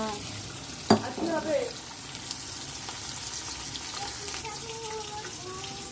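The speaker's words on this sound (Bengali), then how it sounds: "মাংস কষা হয়ে গেছে, এবারে এতে জল দিয়ে দেবো" Water is poured into a pot of browned, frying meat curry. A sharp hiss and splash at first settles into a steady bubbling sizzle, with faint background noise.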